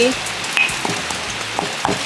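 Storm rain patters steadily around an outdoor kitchen, a close, rough hiss with scattered drop taps, while someone talks over it.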